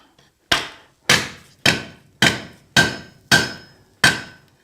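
A steel hoe being forged with a hammer on the body of an anvil: seven sharp, ringing metallic blows at an even, unhurried rhythm, close and loud, each decaying quickly with no talk.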